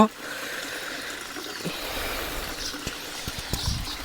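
Water trickles and streams steadily along a forest path leading to a waterfall, a continuous wash of flow with a few louder splashes and knocks near the end.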